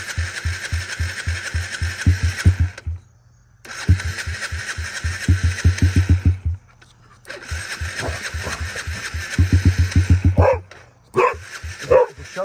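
A small pit bike engine (TTR50) sputters and fires in repeated bursts after a carburetor rebuild, catching and idling in short stretches with brief pauses between, close by.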